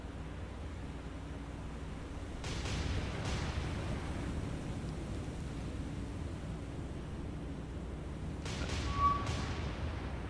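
Naval forward guns firing in War on the Sea: two distant heavy booms a few seconds apart over steady sea and engine rumble, then another pair of muffled shots near the end.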